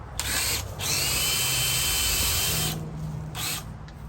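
A power drill whirs steadily at high speed, with brief pauses and restarts, close and loud, while drilling with a drill bit for a portable chicken perch.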